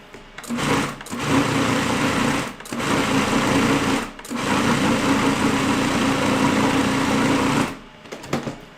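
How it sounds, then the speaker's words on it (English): A food processor pulsing a ricotta mixture for rotolo lasagna, loud close motor whirring in repeated bursts of about a second and a half to three seconds with short pauses between. "We're going to pulse this a couple more times just to mix in that ricotta."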